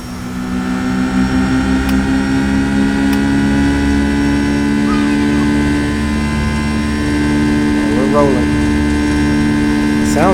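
Inside the cabin of an MD80 jet in the X-Plane 11 flight simulator, a loud, steady engine drone with layered tonal hums runs without a break, while a brief faint chirp rises near the end.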